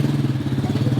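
A kid rides a motorcycle in Thailand, its small engine putting close by in a steady, rapid, throbbing beat.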